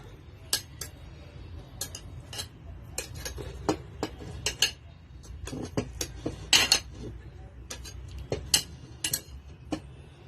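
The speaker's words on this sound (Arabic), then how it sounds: "ابتدي كده العكاوي بتاعتنا نرصصها" Oxtail pieces being arranged in a tagine dish, with a steady run of sharp clinks and clatters of meat and utensils against the dish over a low background hum, close and moderately loud.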